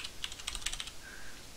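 Quick clatter of keystrokes on a computer keyboard, a short burst of about a dozen light taps close by and fairly quiet, with no voice.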